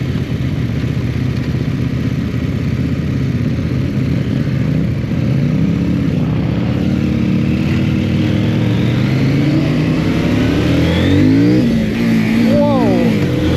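A CF-Moto 800NK motorcycle engine accelerates hard, its loud rough roar rising in pitch through several gear changes with continuous wind noise, close and dominant throughout.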